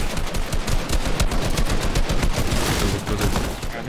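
Automatic weapon fire in a first-person shooter video game, a dense, sustained burst of rapid shots running loud and continuous through the whole stretch with no talking.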